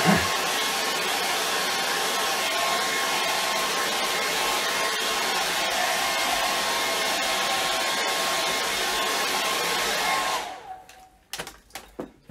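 A hair dryer blows steadily and loudly over a charcoal and acrylic portrait drawing, a constant close whir that cuts off near the end, leaving a few faint knocks and handling sounds.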